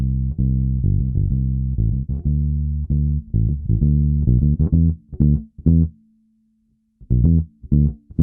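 A bass track plays inside a mix with a Pultec-style EQ boost, heavy, close and punchy notes in a rhythmic pattern, breaking off into a held tone and near silence before resuming.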